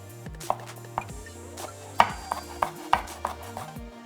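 A kitchen knife coarsely chops raw or roasted almonds on a cutting board, giving about nine sharp, close knocks at an uneven pace, with a faint background hum and no talking.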